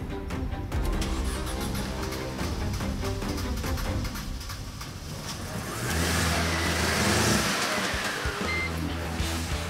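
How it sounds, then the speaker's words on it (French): A Mercedes SLK engine with a booster connected to its battery cranks and then catches, running steadily at a loud, close, even idle, with a brief surge partway through. "ça c'est un moteur qui ne cale pas et qui fait un bruit plutôt agréable"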